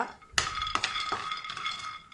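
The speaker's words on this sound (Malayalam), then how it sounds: "ഇനി നമുക്ക് തീ ഓണാക്കിയിട്ട് ഇതൊന്ന് നന്നായിട്ട് വറുത്തെടുക്കണം" Peanuts and cashews roast dry in a pan, with a spatula scraping and knocking against the metal in quick, close strokes.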